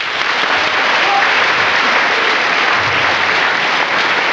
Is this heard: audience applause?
yes